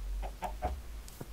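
Minecraft chickens clucking: a few short, close clucks in quick succession, clear and alone against a faint background.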